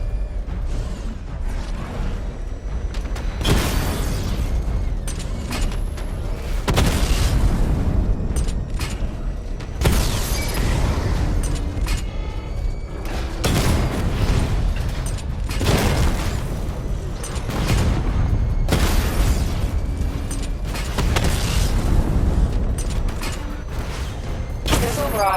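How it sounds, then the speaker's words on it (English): Batmobile missile barrage in Batman: Arkham Knight, a long run of repeated heavy booming blasts and mechanical whooshes, loud and steady, with several bigger bursts spaced across the stretch. "Charge up missile barrage to level 2 and destroy 4 active targets to complete diagnostic test."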